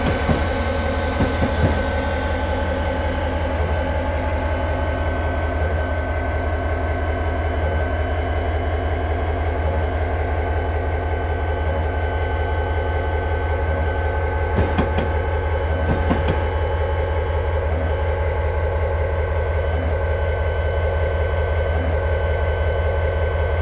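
A long freight train crossing North America runs steadily, its locomotive engine droning with a constant low hum, a few brief clanks breaking through.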